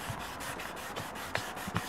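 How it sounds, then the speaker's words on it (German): Sandpaper rubs back and forth over a yellowed plastic car headlight, a steady, soft rasping scrape in rhythmic strokes, close and alone with no talk. "mit einer großen Auflagefläche das Schleifpapier anzudrücken"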